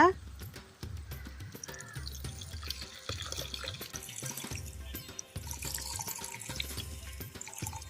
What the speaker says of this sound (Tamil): புளி ஊற்றிக்கலாங்க